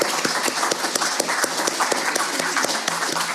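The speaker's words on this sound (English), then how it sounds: "Let's give the panel and Joanne a round of applause." An audience at a Mother's Day gathering gives a round of applause for a panel and its host, with distinct individual claps rattling in a light, uneven patter throughout.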